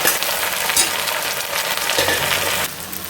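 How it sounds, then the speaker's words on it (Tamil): Onion, green chili, tomato and curry leaves fry in a pan, giving a steady, close hissing sizzle with soft stirring scrapes. The sound runs continuously and alone, then dips slightly near the end. "வெங்காயம் பச்சை மிளகாய் கொஞ்சம் வதங்கின பிறகு தக்காளி பழம் போடணும்."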